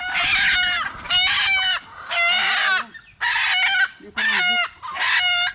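Chickens kept in a yard cluck and squawk loudly up close in five long, harsh bursts separated by brief pauses, with no talking.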